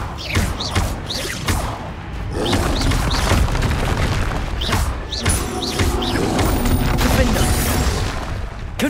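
Confringo explosive spells fired repeatedly in the Hogwarts Legacy video game: a series of heavy, close booms and blasts in quick succession over a dense, rumbling battle backdrop.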